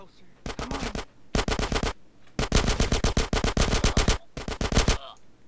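AK rifle fire in the video game GTA San Andreas: several rapid automatic bursts of loud, close shots, separated by short pauses, with one longer sustained burst in the middle.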